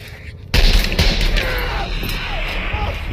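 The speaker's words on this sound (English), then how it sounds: "the Terminator shoots the guard at the security gate twice in the legs" Gunfire from the film Terminator 2 as the Terminator shoots a guard at a security gate: one sharp, loud blast opens the clip, followed by a sustained roar of noise and echo.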